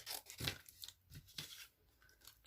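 Close, faint snips and paper rasps as scissors fussy cut a stamped hello image out of card stock, a few uneven cuts within a couple of seconds, with no talking.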